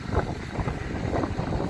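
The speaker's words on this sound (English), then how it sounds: "It's so bloody windy," Strong wind at Galway Docks in Ireland, buffeting the microphone with a continuous rough, gusty rumble that stays loud throughout.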